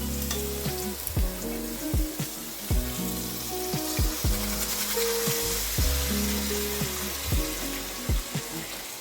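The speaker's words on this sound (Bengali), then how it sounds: "আমি গরম জল ঢেলে দেবো" Hot water goes into a pan of frying chital fish kalia, producing a continuous close sizzle with repeated rhythmic stirring and scraping strokes, no voices.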